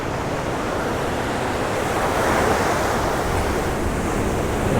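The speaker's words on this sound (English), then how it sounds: "A few random waves pumping up here." Ocean waves roll onto the shore in a continuous loud wash, swelling slightly midway, with wind buffeting the microphone.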